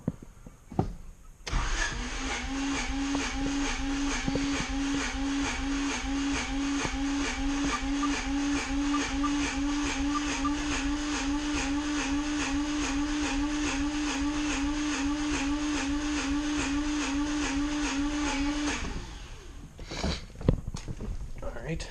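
A Honda CRX engine cranking on the starter during a compression test with the throttle held wide open: a steady rhythmic whirring churn lasting many seconds, loud and close, stopping abruptly.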